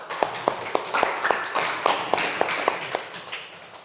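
A classroom of students clapping for a presenting group during a micro-teaching practice lesson, a moderate run of about a dozen sharp claps at an irregular pace over a murmuring room.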